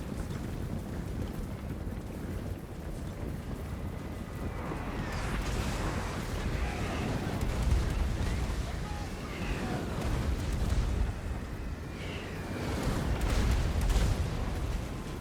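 Mortar fire in a Total War: Warhammer battle: dull, rumbling booms swell out of a constant wash of battle noise, with heavier surges near the middle and again toward the end.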